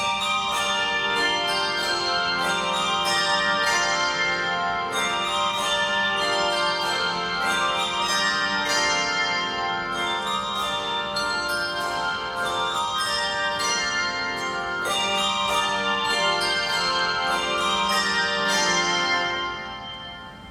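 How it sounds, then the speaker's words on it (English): A group of handbell ringers plays together at an opening ceremony, a bright sustained wash of overlapping bell tones struck in steady rhythmic waves for about twenty seconds before fading at the end. "We ring together, sensitive to one another, and the result is musical symmetry."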